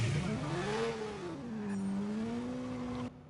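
A voice imitates a tired, sputtering motorbike with a sustained buzzing vocal drone that sags and wavers in pitch for about three seconds, then cuts off abruptly, close and fairly loud.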